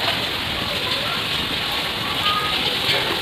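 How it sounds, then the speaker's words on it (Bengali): Small fritters of palm-fruit batter fry in hot oil, giving a steady, dense sizzling hiss that stays loud and even throughout without pause. "এবারে আমি ছোটো ছোটো গুলগুলার আকারে ভেজে নেব।"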